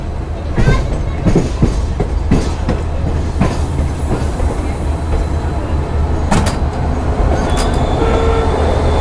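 Inside a sleeper-class coach of the 19226 Jammu Tawi–Jodhpur express on Indian Railways, a loud, continuous rumble carries repeated clickety-clack beats from the wheels crossing rail joints.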